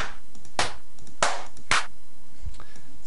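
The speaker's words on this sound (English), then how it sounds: "I'll clap to it here." Three sharp, close hand claps land at uneven intervals over a quiet studio background during a drum-machine session, followed by a faint sustained tone near the end.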